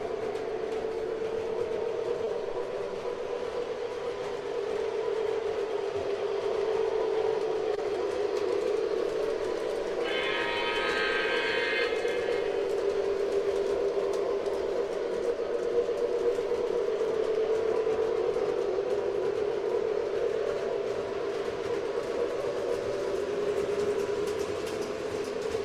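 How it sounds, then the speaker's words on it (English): A Lionel Limited Edition New Jersey Transit U36B model train gives off a steady, continuous rumble and drone for the whole stretch. About midway a brief horn blast sounds, and no one talks. "My Lionel Limited Edition New Jersey Transit U36B has the exact same train sounds"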